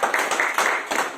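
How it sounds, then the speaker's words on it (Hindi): Brief burst of audience clapping after a call for loud applause at a personality development session, a dense patter of hands with no voice over it. "एक बार जोरदार तालियां उनके लिए।"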